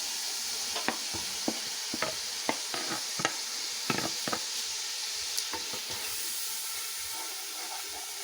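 Chopped tomatoes and dry spice powders tossed into hot oil with ginger, sizzling steadily in a pan for a green chickpea rice dish, with a spoon clicking and scraping in irregular stirring strokes.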